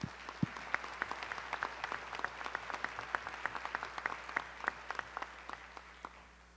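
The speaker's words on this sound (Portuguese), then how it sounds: "palmas para eles." Moderately quiet applause from the audience at the opening session of the 6th Internet Forum in Brazil, steady scattered clapping from a seated crowd in a hall, fading slightly toward the end.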